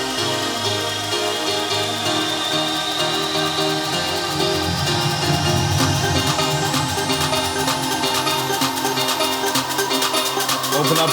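A build-up in an electronic dance music break, with layered synths and a rising pitch sweep that climbs steadily, growing denser and slightly louder over its length.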